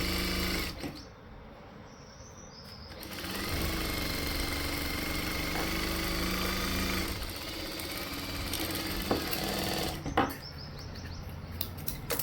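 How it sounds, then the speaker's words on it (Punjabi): A sewing machine runs a straight seam along a sleeve, its steady close whirring and rapid needle clatter holding for most of the stretch after a short quieter start, then stopping near the end. "ਹੁਣ ਆਪਾਂ ਸਿੱਧੀ ਸਲਾਈ ਲਾ ਦੇਣੀ"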